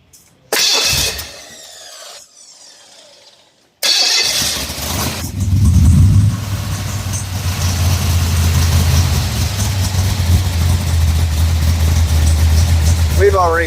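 A Pontiac 428 street/strip V8 cranks and fires up, then settles into a loud, lumpy idle of around 1200 RPM with the mufflers off; voices speak over the steady rumble.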